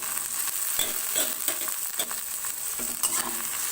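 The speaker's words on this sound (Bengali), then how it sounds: "এবার আমি এতে টমেটো কুচিটা দিয়ে দেবো।" Chopped tomato goes into a pan of golden fried onions, giving a bright steady sizzle with occasional stirring clicks, close and without speech.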